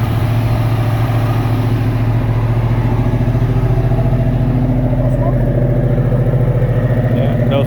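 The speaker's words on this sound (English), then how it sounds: "Engine sounds good. Oh, it runs good too." Original 1969 Ford Mustang Mach 1 with an engine never rebuilt, running steadily with a deep, even, loud rumble throughout, close by, with voices talking over it.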